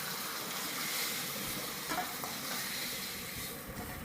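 Potato and taro fry in hot oil, a continuous close sizzle and crackle with faint stirring or scraping touches partway through.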